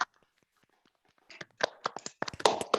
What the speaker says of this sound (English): you can unmute and clap